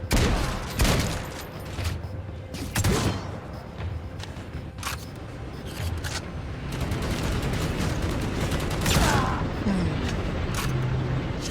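Gunfire from the video game Necromunda: Hired Gun, with sharp shot bursts and booming impacts scattered over steady game ambience and rumbling, some loud blasts near the start and a busier stretch of firing toward the end.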